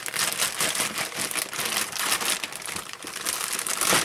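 Plastic mystery bag of knives being cut open, a dense continuous crinkling and crushing of plastic, close and fairly loud for the whole stretch.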